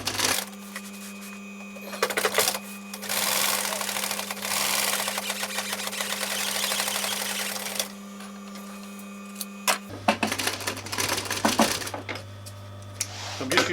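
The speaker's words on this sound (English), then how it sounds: "I'm just going to sew this little bit, and then I can start to fold it where the stitch line is." A sewing machine stitches fabric for camper cushions with diamond-stitched centre panels, running in steady close bursts of rapid needle clatter over a constant motor hum, pausing and restarting with small handling clicks.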